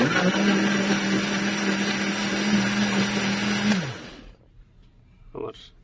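An electric blender whirs steadily as it blends a banana and yogurt lassi, running loud with a strong motor hum for nearly four seconds before winding down and stopping, followed by a brief faint clatter.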